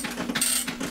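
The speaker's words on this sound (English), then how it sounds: "there you can see in here the dot matrix printer in action" Dot matrix printer connected to an IBM XT printing a document, giving a close, steady mechanical chatter of the print head with ratchet-like clicking, heard alone.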